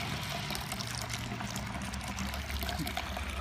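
Liquid pours steadily from a Grainfather brewing system during a wort transfer after a heavy whirlpool hop addition, a continuous close splashing trickle with aeration, running unbroken and without talking.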